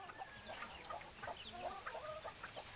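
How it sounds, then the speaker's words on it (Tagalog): Chickens clucking and calling softly around a backyard coop during morning feeding, with scattered short bird calls and a steady low background rumble. "Nagpapatoka siya ng manok, guys."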